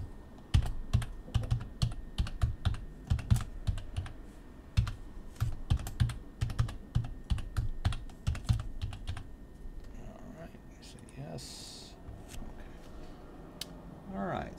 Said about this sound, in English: you'll type in your email